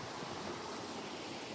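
Creek water rushing steadily near the Canadian border in Waterton, a continuous broadband roar close to the microphone with no voices.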